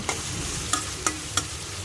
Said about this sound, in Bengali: শুধু এমনিতে আলুগুলো তেলের মধ্যে ভেজে নিব